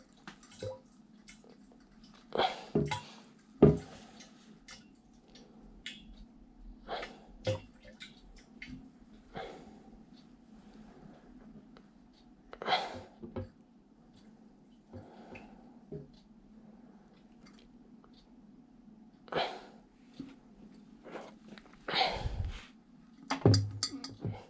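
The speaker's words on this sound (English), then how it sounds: "Remember, it's vital that stir this really well." Honey mead mixture is stirred in a vessel: sporadic knocks, scrapes and liquid sloshes come in irregular bursts, close by, between quiet gaps with a low background hum.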